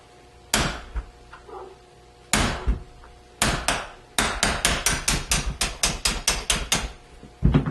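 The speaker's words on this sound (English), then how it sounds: "What I'm going to do is just give it a couple of good whacks." A hammer strikes a pin punch to drive out a pin, with a few spaced heavy metallic whacks followed by a rapid run of about a dozen sharp, loud close blows.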